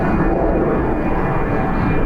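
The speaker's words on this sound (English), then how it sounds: "that's a nifty clip of an airplane which flew overhead here today in the city" Airplane flying overhead in a city, a steady, loud broadband engine roar that fills the whole moment without a break.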